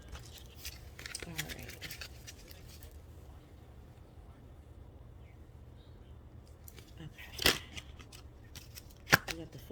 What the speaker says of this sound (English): These cards don't want to shuffle right now.